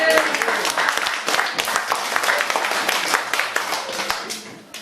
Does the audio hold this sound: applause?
yes